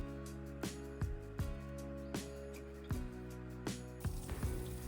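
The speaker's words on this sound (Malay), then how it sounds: "mula-mula saya nak potong dulu sotong ni bulat-bulat" A knife cutting squid into rings on a board, a series of soft wet chopping thuds at an uneven rhythm, close and fairly quiet.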